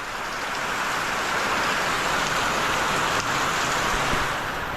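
Heavy rain pours down steadily, a dense, loud hiss of drops close by with no letup.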